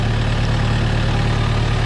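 A Kubota M6040 tractor engine idles steadily at close range, a loud, even low-pitched diesel rumble that holds without change and with no talk over it.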